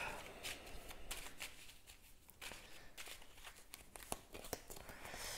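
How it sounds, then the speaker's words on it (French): A deck of cards is shuffled during a Mage Knight board game, a quiet run of rapid riffling and soft card slaps with small pauses, heard close and alone. "on va pouvoir mélanger notre deck"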